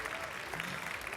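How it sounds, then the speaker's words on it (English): An audience at a Dreamforce 2023 conference session applauds the speaker Steve Moe, a brief, dense burst of clapping from a crowd, fairly faint and even throughout. "Can everybody give Steve Moe a round of applause?"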